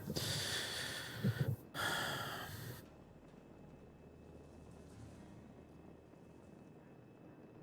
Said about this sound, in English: Sniffing the microphone.